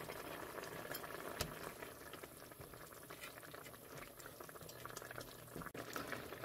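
A pot of soft tofu stew with vegetables and meat bubbles at a low simmer, a faint, steady burble with soft liquid pops and a dull knock or two, close and quiet, with no talking.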